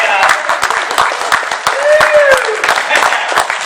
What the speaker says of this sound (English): You now know the kind of crowd you're in front of because they're applauding.